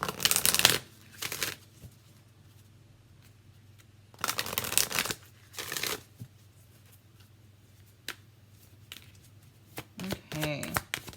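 An Enchanted Map Oracle card deck is shuffled in several short, crisp bursts separated by quiet pauses, close and clear, with a voice talking in between.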